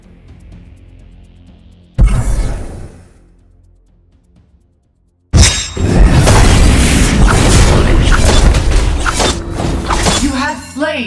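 A turret is destroyed in Legend of Ace: a sharp shattering burst, a brief lull, then a loud, sustained crashing boom of crumbling debris that fades at the end.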